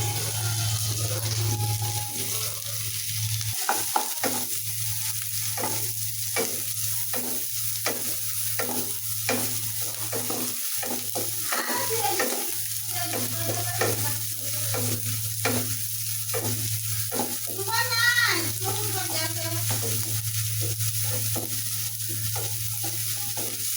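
Onion and garlic fry in hot oil in a wok, a steady close sizzle broken by frequent scraping stirs and clatter across the whole stretch, with no talking.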